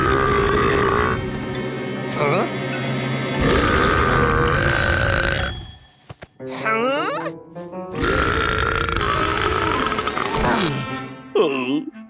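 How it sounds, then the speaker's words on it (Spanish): Long, loud cartoon burps follow a drink of explosive cola, coming as two drawn-out eructations with a brief gap between them and gurgling, squeaky effects. "Esos eructos debieron convertir su casa en vapores apestosos"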